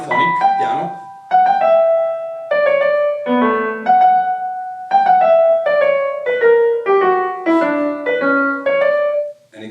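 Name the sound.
monophonic piano Bach chorale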